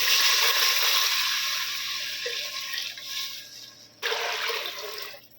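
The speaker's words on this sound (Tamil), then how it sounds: "இப்போ நம்ம வந்து தண்ணி ஆட் பண்ணிக்கலாம்." Water pours into a cooking pot on a stove where green chillies are cooking, a continuous rushing hiss that eases off and then surges back loudly, with no one talking.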